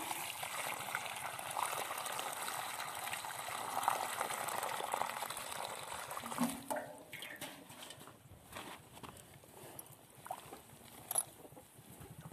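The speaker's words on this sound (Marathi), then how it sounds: "पाणी ओतून घेऊया." Water pours and splashes steadily onto soil for several seconds while planting a tulsi (holy basil) plant, then tapers off into scattered drips and small trickles.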